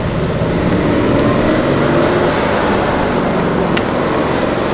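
A Honda HR-V leaving a car meet, its engine making a loud, continuous whooshing roar like a turbine that holds steady without a break.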